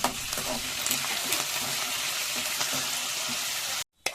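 Steady, loud sizzling of curry leaves frying in hot oil, continuous crackle filling the scene before it cuts off abruptly near the end.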